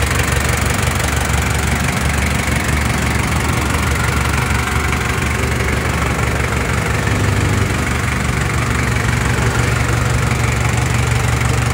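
A Shibaura 4000 tractor's four-cylinder diesel idles steadily and loudly up close, a constant low knocking rumble with slight vibration and no speech.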